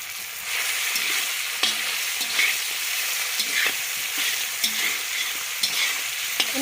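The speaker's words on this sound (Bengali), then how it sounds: "এরপরে এই তেলের মধ্যে মাংসকে দিয়ে দিচ্ছি আদা রসুন বাটা আর দিয়ে দিচ্ছি গোটা মশলাগুলো" Homemade country chicken sizzles in hot oil with ginger-garlic paste and whole spices for tehari, a steady frying hiss broken by scraping stirs and occasional clinks, close and continuous with no talking.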